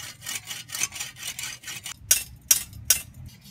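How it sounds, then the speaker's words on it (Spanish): A file rasps a small fine notch into a JBL Reaper Railgun 90 speargun, a close run of quick rhythmic scraping strokes followed by three sharper separate strokes. "lo voy a hacer exactamente aquí una pequeña muesca, muy fina"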